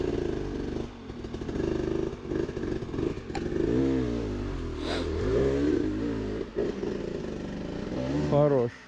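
An enduro motorcycle on a rugged off-road track, its engine revving hard with rising and falling throttle bursts, loud and close, while people talk over it.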